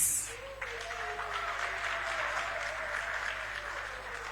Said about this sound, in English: So let's clap for them, please.